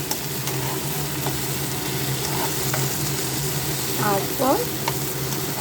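Filling being mixed with fried nuts in a pan, a soft steady sizzle and scraping stir under a low hum, with a couple of brief louder scrapes near the end and a voice speaking briefly.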